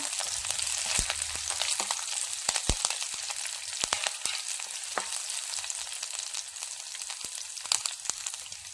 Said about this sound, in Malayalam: ഇനി നമുക്കിതിലേക്ക് 2 പച്ചമുളക് അരിഞ്ഞതും കുറച്ച് കറിവേപ്പിലയും ഇടാം. ഇതെല്ലാം കൂടി ഒന്ന് വാട്ടിയെടുക്കാം.